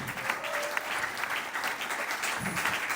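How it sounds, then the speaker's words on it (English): A loud ovation from the audience at a sales bootcamp in Nigeria, steady dense clapping throughout, fairly distant and even in level, with no talk over it. "Ladies and gentlemen, with a very loud ovation."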